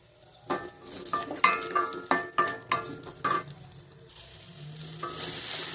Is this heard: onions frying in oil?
yes